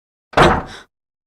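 A door is shut once in an indoor home setting, a single close, fairly loud thump with a brief rattle that ends quickly, followed by silence.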